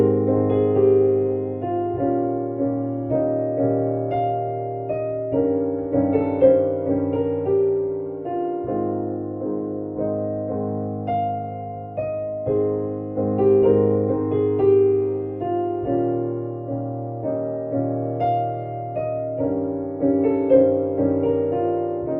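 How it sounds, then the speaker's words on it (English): A piece plays on the speaker's piano, with sustained chords and a steady melodic line rolling continuously at moderate volume. It is close and clear, with no talking over it. "So I'm sitting at my piano right now and music is math,"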